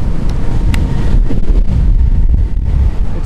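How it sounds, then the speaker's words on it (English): Heavy wind buffets the microphone in a steady, loud roar with low rumbling gusts, air rushing past while riding a Volvo EX30 with the helmet open. "It's windy."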